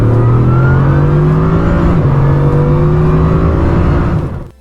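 A Bugatti supercar accelerates hard, its engine note loud, close and continuous with a steadily climbing pitch and a brief gear-change dip midway, then cutting off abruptly at the end.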